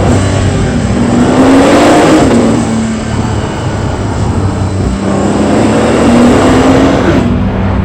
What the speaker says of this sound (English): Like the blow-off sound of the turbochargers.